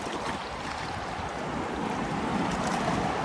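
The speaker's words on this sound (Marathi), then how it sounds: "आता लाट आली लाट आली" Ocean waves wash and break steadily at Calangute beach in Goa, a continuous broad rushing surf that swells slightly louder toward the end.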